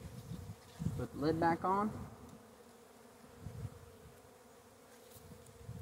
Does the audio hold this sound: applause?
no